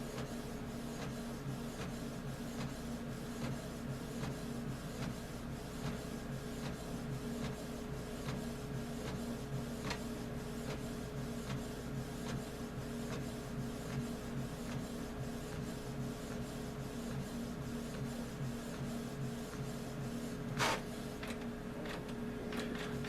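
A Canon MX922 printer printing a template, a continuous mechanical whir with a fast ticking pattern that runs steadily for over twenty seconds, with one sharper click near the end.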